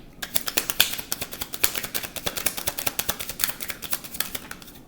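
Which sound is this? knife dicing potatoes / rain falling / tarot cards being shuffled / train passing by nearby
tarot cards being shuffled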